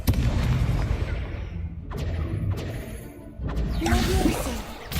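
Spell combat in a Harry Potter video game: loud booming blasts and whooshing impacts fire in quick succession with crashing bursts, and a voice calls out spell names over the effects.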